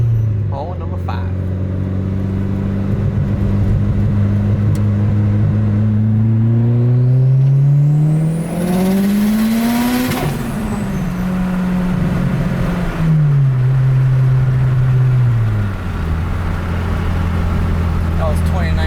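Mitsubishi Evo 9 engine pulling hard in second gear, revving up to a loud peak with a rising whine, then dropping back off with a second surge; people talk over it throughout.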